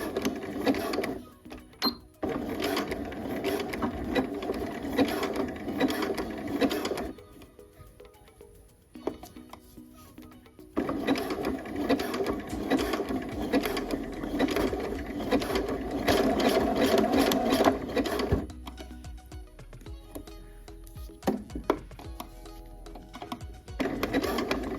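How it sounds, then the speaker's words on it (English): Home sewing machine stitching a 5/8 inch garment seam with backstitching, running in steady bursts of several seconds separated by brief pauses, close and fairly loud, with no talking. "So we're gonna sew at 5/8 inch here."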